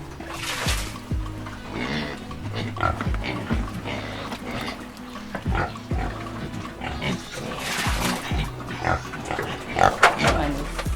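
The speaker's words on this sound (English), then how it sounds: "Problem with pigs, they are so greedy." Greedy pigs grunt and squeal repeatedly on a pig farm at feeding time, a dense, close, continuous chorus of overlapping snorts with sharp bursts, while a person talks intermittently.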